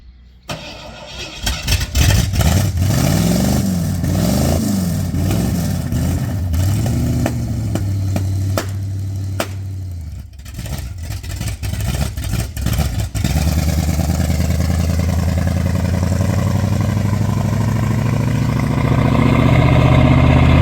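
An old 351 engine cranks with rhythmic starter whirs, catches and runs, then idles and revs up and down, loud and close with no talk.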